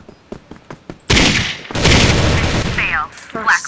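Bursts of rapid gunfire from the first-person shooter game Crossfire, loud and dense, starting after a few sharp single clicks, with short breaks and a couple of ringing metallic tones near the end.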